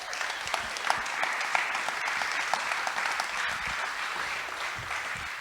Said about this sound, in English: First, round of applause for Tony Konechny.